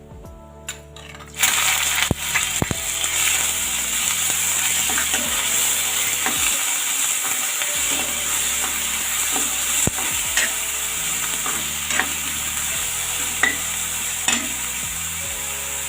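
Finely chopped onion frying in a pan over a medium flame, a continuous loud sizzle with frequent sharp clinks and scrapes from stirring, no voices.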